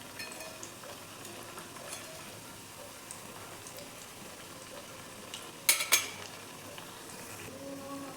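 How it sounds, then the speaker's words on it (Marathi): Fenugreek vadis fry crisp in hot oil, giving a steady, faint sizzle throughout, broken by a couple of sharp clinks of a utensil against the pan partway through. "मस्त क्रिस्पी तळून घ्यायच्यात वड्या आपल्याला"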